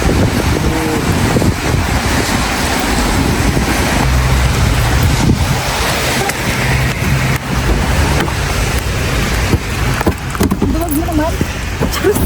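Heavy rain in the Philippines, a dense steady roar of falling water that fills the whole span, loud and close, with people talking faintly beneath it.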